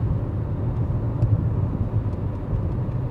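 A 2012 Nissan Altima SR V6 on a test drive, cruising on light throttle with a low, steady engine rumble and road noise, moderately loud and without talking.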